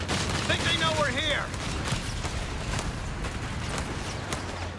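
Gunfire in Company of Heroes 3 during a 1v1 match, continuous distant small-arms crackle and battle rumble under a brief whistling sound, with commentary talk over it.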